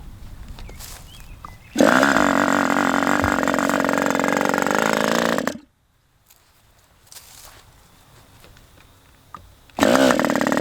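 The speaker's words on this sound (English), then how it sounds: "let's just fire this engine up on this beautiful day for the first time" A Raduga 10RU engine fires up for its first run, buzzing loud and steady with a sharp chainsaw-like rasp for about four seconds. It then cuts to near silence with faint low rumble, and a second loud burst of running follows at the end.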